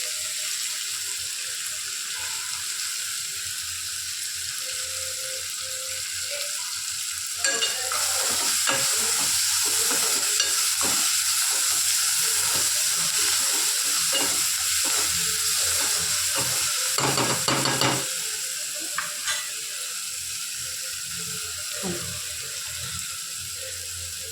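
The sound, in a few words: stirring rice with coriander in a frying pan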